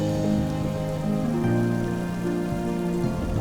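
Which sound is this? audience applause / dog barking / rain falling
rain falling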